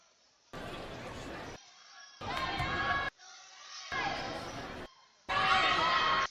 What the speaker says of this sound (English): There's a capacity crowd here, folks